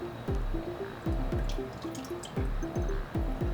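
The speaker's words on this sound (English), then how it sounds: "Once your piece is fully underwater, go ahead and start shaking off all the excess film." A car part dipped in hydro-dip water is shaken to clear off excess film, giving close, rhythmic sloshing and dripping splashes in bursts of roughly three per second.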